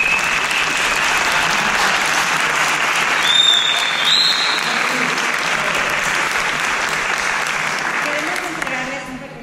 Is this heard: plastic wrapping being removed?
no